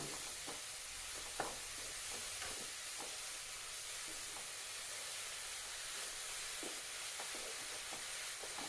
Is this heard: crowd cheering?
no